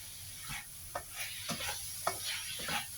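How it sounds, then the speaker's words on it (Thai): Pork filling for sago dumplings being stir-fried in a pan, with a spatula scraping and stirring in irregular strokes over a soft, steady sizzle; moderately close, no talking. "จะคั่วเดี๋ยวผัดต่อไปอีกประมาณสักสองสามนาที"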